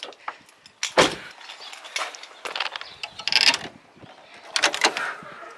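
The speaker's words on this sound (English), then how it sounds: "Let's pop this hood." A BMW hood being popped open, heard as a series of clunks and mechanical clicks with a sharp latch thump near the start, followed by scattered rattles and handling noises close by.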